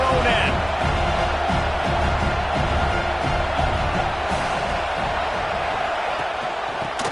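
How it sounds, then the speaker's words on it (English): A football crowd roars steadily through a game between Ohio State and Notre Dame, a dense, continuous wash of noise that stays loud and even from start to finish. "The roar of the crowd trying to fuel this defense to keep them pinned in their own end."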